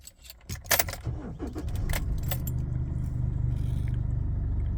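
Holden Colorado ignition cycle and start: a key jangles and clicks in the ignition, then the engine cranks and settles into a steady, close idle rumble.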